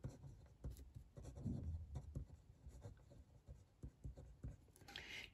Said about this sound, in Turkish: Bunu hemen yazalım.